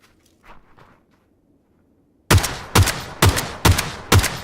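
In a shooter video game, soft footsteps and faint movement come first, then five loud, evenly spaced gunshots ring out close by, each with a sharp crack.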